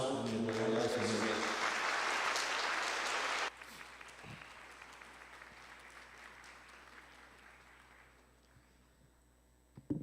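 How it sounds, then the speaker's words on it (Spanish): At a labor law congress panel, the audience claps loudly for about three seconds, then the sound drops off abruptly to a thinner, quieter patter that fades gradually toward the end. "pedirle a ustedes que sostengamos un aplauso en mi nuevo agradecimiento"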